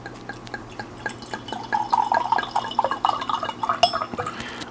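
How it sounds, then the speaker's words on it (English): Reposado tequila from a natural-cork bottle poured into a glass, a steady trickling, dripping pour that builds in the middle and carries on with small splashes, close and moderately loud, with no talking. "we'll go ahead and pour this in the glass"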